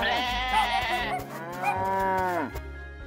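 A cartoon sheep on a magical farm gives a drawn-out bleat, loud and close, a single sustained wavering call with no talk.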